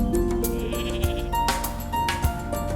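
A white billy goat on a mountain ridge bleats in several wavering, nasal calls over two or three seconds, loud and close against steady outdoor noise, with no talking.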